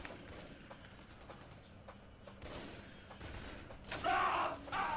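Gunfire in the Raven Squad video game tutorial, scattered shots and thuds over a steady battle ambience, with a louder burst near the end.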